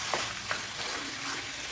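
Half a kilo of chicken pieces sizzling in a pan of softened sautéed onions for a chicken gravy, a steady quiet fry hiss with a couple of soft stirring knocks early on, no talking.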